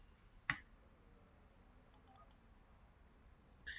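A computer mouse gives a sharp single click, then a quick burst of faint clicks and a louder click near the end, all close and isolated against quiet room hiss.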